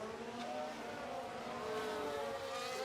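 Formula 1 cars in F1 Manager 2023 whine past in close racing, with layered high-pitched engine tones rising and shifting as they duel, with no voices over them.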